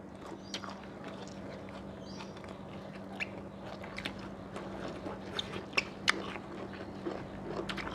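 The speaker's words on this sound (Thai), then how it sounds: "กินเสียงดัง" Close, wet chewing and crunching of fish with vegetables and fermented fish dip, irregular bites and smacks over a steady low hum, no talking.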